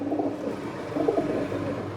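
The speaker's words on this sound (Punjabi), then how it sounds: "ਲੋ ਬਾਬਿਓ ਆ ਕਬੂਤਰ ਆਪਣੇ" Pigeons coo softly and continuously in a loft, a low, steady burble of overlapping calls with no talking.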